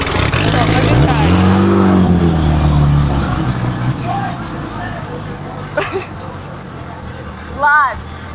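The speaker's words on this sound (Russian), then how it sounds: "уже твой этот BMW едет" BMW drift car at the Sochi Drift Grand Prix 2018, a strong low engine drone rising and holding for a couple of seconds up close, then fading, with a brief whine later; people talk over it.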